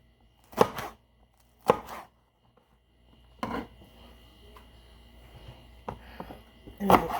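Okra is chopped with a knife on a cutting board in a home kitchen, giving several sharp, close chops spaced a second or more apart, with softer handling noises in between.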